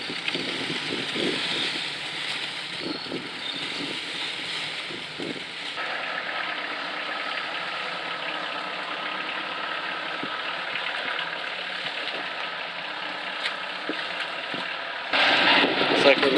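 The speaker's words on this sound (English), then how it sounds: "Looks like we're losing our exhaust here" An old Oldsmobile engine idles with a steady low rumble and a raspy, breathy hiss from a leaking exhaust, recorded outdoors with wind noise and occasional bumps, growing louder at the end.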